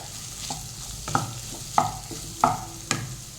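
Chopped onions frying in a pan for egg chilli, a soft steady sizzle with a spoon stirring and scraping in several distinct strokes, close and moderately quiet, no voices.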